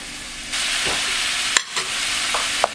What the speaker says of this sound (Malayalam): എല്ലാം കൂടി നന്നായി അങ്ങ് മിക്സ് ചെയ്ത് കൊടുക്കുക.